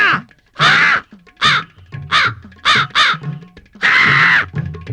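A person imitates a crow, giving a series of loud, harsh caws in separate bursts of varying length, close and forceful, with short pauses between them.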